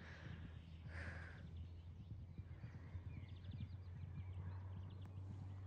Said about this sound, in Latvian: Nu, lūk, skaistie zirdziņi.